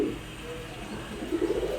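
Pigeons from a collection kept for sale coo in a short, low burst, growing louder near the end, with no talk over it.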